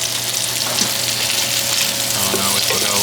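Burgers fry in a pan with a loud, steady sizzle and crackle close up, filling the whole stretch with no one talking.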